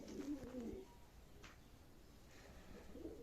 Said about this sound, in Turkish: Buradan da güzel kuşlar alıyoruz.